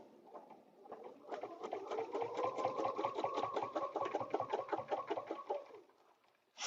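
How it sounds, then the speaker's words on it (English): Sewing machine stitching a paper-pieced fabric block for a butterfly dresser scarf, a steady rapid needle clatter running for several seconds before stopping, close and alone without talk. "I'm going to stitch."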